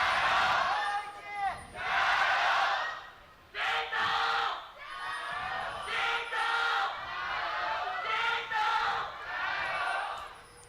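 A large live crowd at a JD Gaming LPL esports match roars in repeated swelling bursts, loud and close, one huge shout after another with brief dips between.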